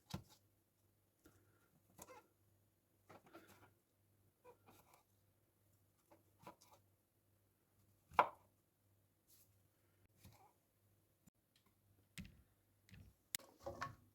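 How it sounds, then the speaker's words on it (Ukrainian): A knife cuts through mushrooms on a board, making sparse, crisp individual slicing taps spaced a second or two apart, close and quiet, with near silence between strokes and no speech. "Гриби нарізаємо тонкими пластинками, смажуємо до повного випаровування вологи."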